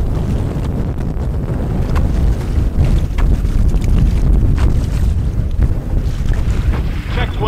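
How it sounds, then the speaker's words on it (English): A severe headwind on a wilderness lake buffets a solo canoe, with loud, steady wind roaring across the microphone and waves splashing and lapping against the hull close by throughout. "this one's getting things started with a pretty severe headwind"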